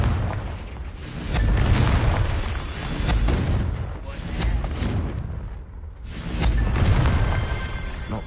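Booming, rumbling blasts of the Confringo fire spell in the Hogwarts Legacy video game, three broad explosive swells in a row, loud and full, with no talk.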